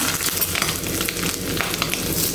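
Two or three broken dry red chillies hit hot oil for a Kerala erissery tempering, giving a steady, close sizzle with scattered crackles and no speech.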